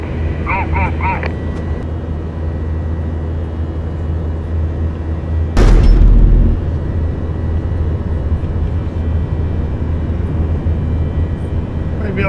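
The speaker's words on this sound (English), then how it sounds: "You are clear for takeoff." A military jet taking off in a video game set on the 1971 Indian naval front, heard as a loud, steady engine roar that swells into a brief heavier burst midway and then holds constant.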